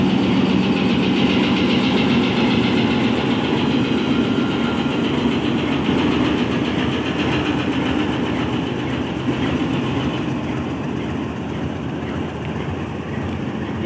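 A Pakistan Railways diesel locomotive from the Rohri shed runs steadily with a broad, continuous engine rumble and faint rail clatter, loud and unbroken throughout.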